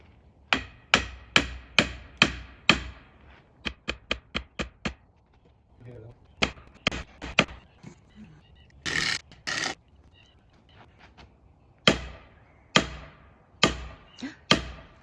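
Repeated heavy blows strike a dead tree that is being felled and already sits on its hinge, sharp woody knocks in uneven bursts of several hits with pauses, while a voice speaks between strikes.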